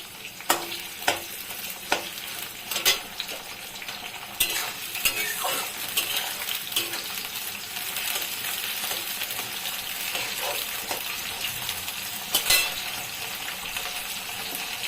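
Chopped tomato dropped into a hot frying pan with oil and a bay leaf piece, a steady bright sizzle throughout with several sharp clinks and scrapes of stirring, close and unaccompanied by talk.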